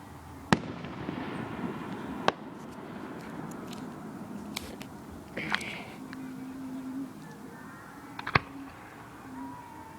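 Fireworks bursting at a July 3rd show in Gallitzin, Pennsylvania: several sharp, distant bangs spaced irregularly over a crowd murmur, with a faint crackle between blasts.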